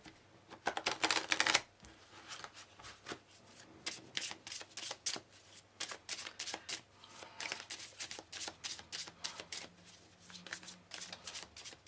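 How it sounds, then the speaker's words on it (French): Oracle cards being shuffled by hand, with a burst of rapid riffling followed by steady, quiet, crisp card flicks and taps that continue throughout. "on va rajouter des petites cartes de l'oracle des origines."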